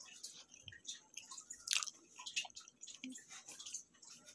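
Crunchy buko pie, a coconut pie, being bitten and chewed close to the mic, with soft irregular crunches and mouth sounds at a low level over faint room noise.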